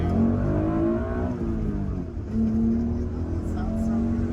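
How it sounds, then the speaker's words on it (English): Acura NSX NA1 engine revving, with several rising and falling revs close by, loud and strong, and a voice speaking partly under it. "So let's rev it out again."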